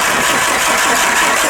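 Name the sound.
car engine being started with the starter during rebuild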